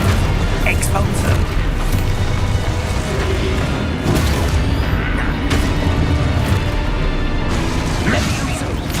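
A spell explosion in Hogwarts Legacy bursts amid a loud, busy mix of booms, crashes and clattering effects, with a voice calling out spell names repeatedly throughout.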